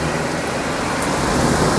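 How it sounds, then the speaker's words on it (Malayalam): Steady, dense heavy rain pours down in the UAE without a break, a constant broadband hiss with no voices or distinct drops standing out. "ഭയങ്കരമായിട്ട് മഴ പെയ്തിട്ട്"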